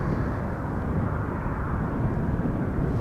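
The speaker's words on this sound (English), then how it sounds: "Here's this 737-800 from KLM going to Geneva." A KLM Boeing 737-800 airliner departing Amsterdam Schiphol from runway 36L, a steady, low, rumbling engine roar held at even loudness throughout.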